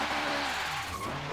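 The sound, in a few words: Honda Civic Type-R wheelspin in first gear, racing video game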